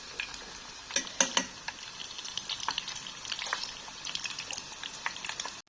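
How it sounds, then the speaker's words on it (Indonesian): Sambal goreng being reheated in a pan on a gas stove, with a continuous soft sizzle and occasional crackles and pops. "Ini sambal gorengnya aku panasi segini aja"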